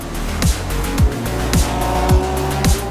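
A race car on track at the Gulf 12 Hours, at night under blue lights, screams loudly with its engine note sweeping in quick repeated falls, each about half a second apart.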